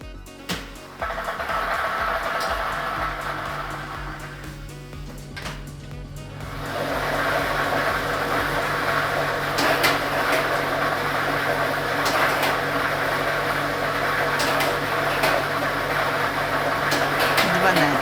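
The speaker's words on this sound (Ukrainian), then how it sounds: "І ми вмикаємо лототрон." Lottery drawing machine switched on, a loud steady mechanical whir with balls rattling and tumbling as they mix, rising after a short quieter start and continuing unbroken.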